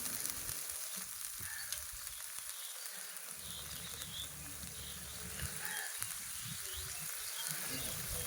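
Water poured into a frying spice paste for a Bengali rohu fish kalia sets off a broad, steady hiss and sizzle, faint and continuous, with low bubbling underneath.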